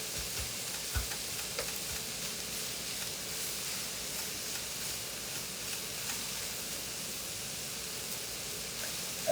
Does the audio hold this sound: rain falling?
no